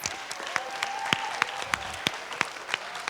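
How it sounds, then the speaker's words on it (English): Audience applause at a school career academy business panel day for a school board chair, a steady, moderately distant wash of clapping with a few sharper individual claps standing out. "We have School Board Chair Nadia Combs on the panel, so let's give her a round of applause."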